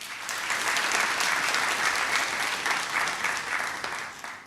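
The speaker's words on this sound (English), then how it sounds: "You deserve a round of applause" An awards ceremony audience breaks into warm, continuous applause, a full, even roar of clapping that swells slightly and then eases toward the end.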